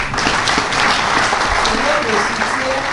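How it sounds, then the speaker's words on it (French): Conference audience at a microbiology event applauding, a sustained dense wash of clapping from many hands, loud and even, with a voice faintly audible beneath it. "On applaudisse beaucoup pour Biomérieux."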